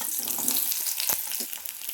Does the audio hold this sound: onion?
yes